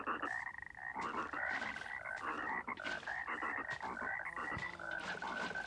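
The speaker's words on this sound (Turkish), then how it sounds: "Kurbağa." Frog croaking in a safari mod for Minecraft PE, a continuous, loud chorus of rhythmic croaks repeating steadily throughout with no voices.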